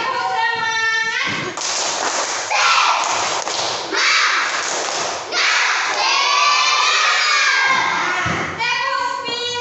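A school class doing a rhythmic group clapping chant, children shouting the words in unison between loud bursts of clapping and thumping, energetic and close.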